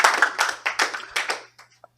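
A small classroom group gives a brief round of applause, a few seconds of sparse, uneven clapping in short bursts that quickly thins out to a couple of last claps.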